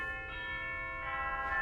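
Chimes on the BYU-Idaho Ruffatti pipe organ ring out as a sustained, bell-like metallic tone with steady overtones, fairly soft and alone.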